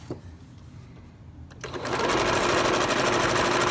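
After a quiet start, a sewing machine starts up and runs a continuous fast straight stitch along a fabric face mask, a close, steady, rapid mechanical chatter.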